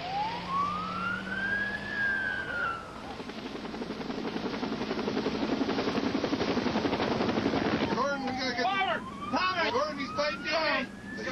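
A medical transport helicopter gives off a loud, steady rotor thrum; a siren-like wail sweeps through at the start, and voices come in near the end over the continuing engine noise.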